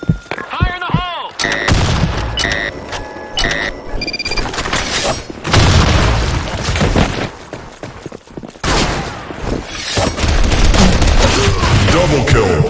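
Grenade blasts and rapid gunfire in a Counter-Strike style shooter on a sandstorm desert map, with dense bursts of shots and booms filling the whole stretch, loud and close, a brief electronic tone early on.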